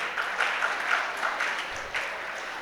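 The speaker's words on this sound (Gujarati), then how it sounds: "તાળીઓથી સન્માનિત કરીએ." An audience at a school prize-giving ceremony claps steadily for a student, a moderate, continuous patter of many hands that swells slightly in places.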